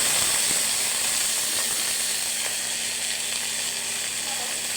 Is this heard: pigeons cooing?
no